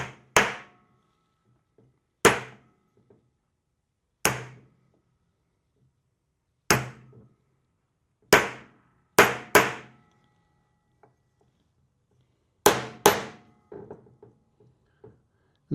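Hammer tapping a part into a Jaguar XJS rear hub carrier during an overhaul, with about ten sharp metallic taps coming singly and in quick pairs, spaced irregularly, close and clear with quiet between.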